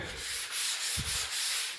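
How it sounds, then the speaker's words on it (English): Light hand sanding over drywall joints, a close, steady scratchy rubbing in even back-and-forth strokes, about four passes in under two seconds, with no voices. "just to give it a light sanding"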